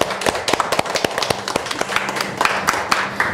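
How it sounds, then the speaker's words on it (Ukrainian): Guests at a wedding registration applaud the newlyweds with a short burst of clapping, dense and fairly close, with no talk over it. "Ваші оплески!"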